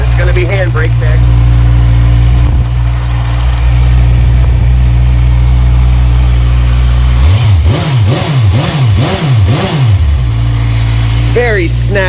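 A 2012 Kawasaki Z1000 streetfighter motorcycle with a Leo Vince exhaust idles loudly and close, then gives a rapid series of sharp revs in the middle before settling back. Someone talks over it.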